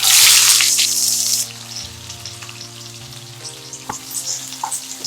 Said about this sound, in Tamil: வெங்காயம் வந்து நல்லா வதக்கிங்கம்மா